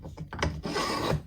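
A file rasps along the fret edges of a Fender Telecaster neck during a re-fret, beveling them in short back-and-forth strokes, close and clear with no speech.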